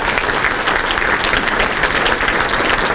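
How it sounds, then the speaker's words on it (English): Dense, steady applause from a large crowd at a Prince George's County economic event, filling the whole moment without a break. "Let's give the council a round of applause."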